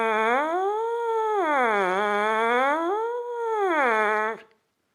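A horn plays a rising, swooping tone that climbs and falls several times with steady volume and no added air push, sustained and loud, then cuts off abruptly, with no voices.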